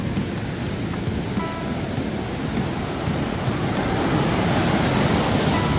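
A mountain valley stream rushes steadily below a waterfall at Hwaak Mountain, a loud, dense wash of water that grows slightly stronger toward the end, with no voices.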